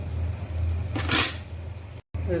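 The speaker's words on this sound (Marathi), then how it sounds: "त्याच्यावरती झाकण ठेवूया आपण" A lid set down on a pan of Konkan-style stuffed green chillies, one brief metallic clank standing out over a low steady kitchen hum.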